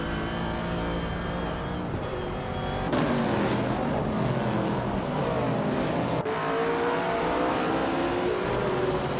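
Racing car engines roar steadily in a racing video game, with a 1968 Pontiac Firebird among the field, the revving pitch rising and shifting as cars jostle close together with no talk over it.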